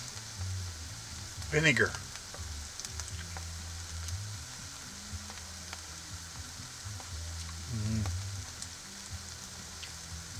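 Chicken wings sizzle steadily in a pan over a campfire, a continuous close frying hiss, while someone speaks briefly over it and low sounds rumble in the background.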